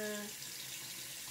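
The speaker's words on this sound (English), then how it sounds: "Sweep the angled side of the sponge across the water." The angled side of a makeup sponge is swept across water, giving a soft, close, wet hiss that runs steadily for about a second after a brief vocal tone at the start.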